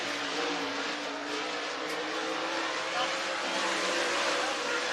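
Race cars lapping a dirt track speedway at North Georgia Speedway, a dense continuous engine roar with rising revs, heard under a commentator's voice.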